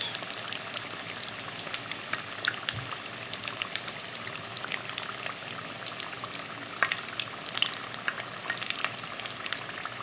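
Wontons for jalapeño bacon poppers sizzle steadily in hot oil in a pan, a dense continuous crackle with scattered sharper pops throughout, close and fairly loud, with no voices.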